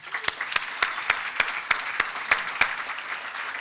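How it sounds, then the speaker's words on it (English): Spaced, crisp claps ring out at a University of Florida event, a sparse and steady rhythm of roughly three claps a second over a faint room background, moderately close. "Let's give everyone a round of applause."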